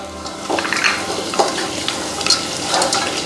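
Cumin seeds, cinnamon sticks and raw cashews fry in a pan, a close, fairly loud crackling sizzle with irregular pops and stirring scrapes throughout, and no one speaking.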